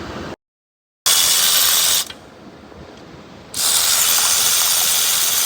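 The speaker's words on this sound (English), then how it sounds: "Now we're ready to remove this starter, held in by 2 15mm bolts, 1 electrical connector" A ratchet working the 15mm starter bolts on a 2016 Chevy Traverse, a loud, dense buzzing whir in two long bursts separated by a short gap and a quieter stretch.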